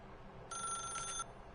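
A telephone in The Stanley Parable video game gives a single short electronic ring, clear and fairly close against faint background hiss.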